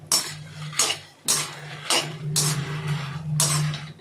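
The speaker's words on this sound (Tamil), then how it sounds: "இப்போ மிளகாயை வறுக்கிறோம்" Red chillies being dry-roasted in a pan for idli milagai podi, heard as repeated bursts of scraping and rattling from a spatula against the pan, about five strokes in a loose rhythm under a low steady hum, close and fairly loud.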